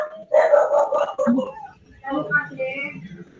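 Dogs bark and yip in a couple of short bursts indoors at home, mixed in with a person talking over them.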